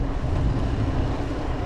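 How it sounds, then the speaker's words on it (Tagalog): A strong headwind roars across the microphone during a bicycle ride, a loud continuous low rumbling buffet with no pauses. "Grabe kalakas ang headwind, oh."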